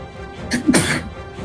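A single sneeze bursts out briefly from someone nearby during a tabletop role-playing session, a quick sharp burst rising over faint background room sound.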